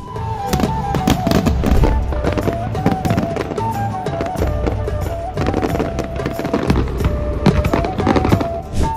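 Rapid, dense crackling of Diwali firecrackers bursting nonstop, sharp pops and bangs piling on one another, with occasional whistling tones.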